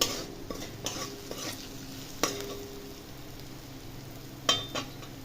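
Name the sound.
stirring chaat masala in a frying pan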